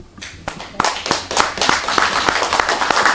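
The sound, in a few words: audience applause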